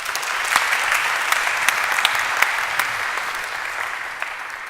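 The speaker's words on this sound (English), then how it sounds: "With your warm applause, Faraz Janan Khattak." A conference room full of people claps steadily at an opening ceremony, warm sustained applause with a few sharper individual claps standing out, fading slightly toward the end.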